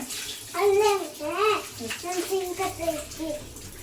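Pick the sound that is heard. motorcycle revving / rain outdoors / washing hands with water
washing hands with water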